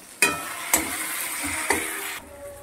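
Potatoes stirred with turmeric, chili and salt in a pan: gentle sizzling frying under three or four sharp scrapes and clinks of a spatula against the pan, with no talking.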